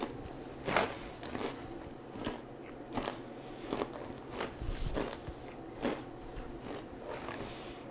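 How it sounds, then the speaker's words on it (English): Crunchy Love Corn Hot & Spicy roasted corn snacks are chewed close to the mouth, a series of irregular sharp crunches and crackles over about eight seconds, fairly quiet with no talking. "When you chew these, they tend to get a little bit gummy"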